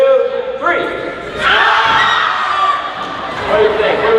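A youth forum crowd jumping together on a count, a loud burst of shouting and thudding landings that swells and fades, then a second surge, with a voice speaking before it.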